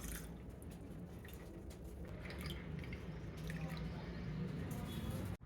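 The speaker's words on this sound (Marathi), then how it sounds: "आता याच्यात ॲड करायचं आपल्याला आपल्या आवडीनुसार थंड पाणी" Cold water poured into raw mango panha, a steady close liquid splash and trickle with small drips running throughout, fairly quiet and uninterrupted.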